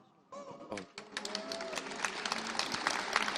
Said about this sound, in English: See, people beside Revuto, people are clapping as well.